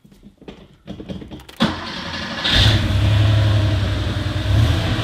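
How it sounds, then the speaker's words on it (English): Cold start of a 1989 Porsche 911 Carrera 964: a few clicks and rustles, then the engine cranks and catches, settling into a loud, steady low idle rumble with no talk. "All right, we're going to do a little cold start here."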